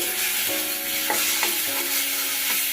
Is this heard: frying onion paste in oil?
yes